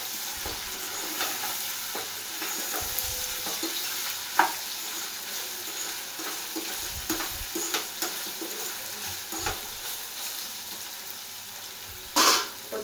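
Ginger garlic paste fries in a pan with a continuous sizzle while a spoon stirs and scrapes, adding scattered knocks and a louder clatter near the end. No one speaks.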